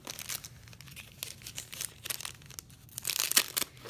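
Plastic bags holding brush-lettering pens crinkle and rustle in close, quiet, irregular handling, growing busier toward the end.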